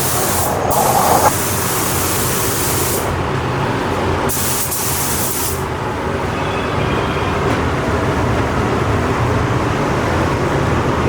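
A spray gun applies coats of paint to a Miata body, hissing steadily up close in long even passes with short breaks between them, over a constant background hum.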